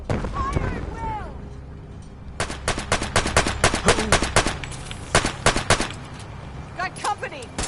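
Rapid bursts of gunfire in the Fallout 4 Far Harbor video game, clustered volleys and automatic fire crackling loudly, with shouted voices in between at the start and end.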